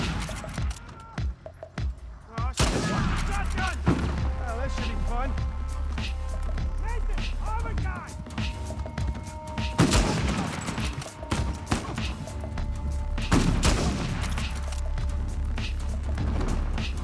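Uncharted 4 firefight with bursts of gunfire crackling through a busy game mix, sharper volleys near the middle and end, while a voice talks over the action.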